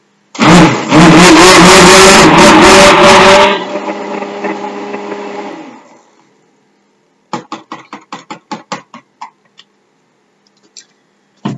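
A blender stirs a soap mixture darkened with activated charcoal: a loud motor whir holds for about three seconds, then winds down and fades, followed by a run of sharp, separate clicks and taps.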